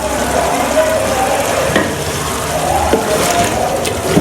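Chana dal and minced keema frying in a generous amount of ghee in a large pot, a dense continuous sizzle under occasional stirring scrapes and soft clanks, loud and close throughout.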